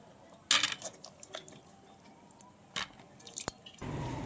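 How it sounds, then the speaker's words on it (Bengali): Cut pointed gourds (potol) being washed in water, heard as soft wet squishes and splashes in bursts near 0.5 s and 2.8 s, with a sharp click and a short run of water at the end. "পটলগুলো আমি সব কেটে নিয়েছি আর ভালো করে ধুয়েও নিচ্ছি"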